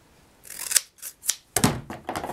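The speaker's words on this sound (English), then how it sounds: "You're just going to take your snips, and I've already snipped at the bottom, snip at the top" Snips cut garden green cardstock into fringe in a papercraft project: four or five quick, crisp snipping strokes in close succession, near and clear, with no talking.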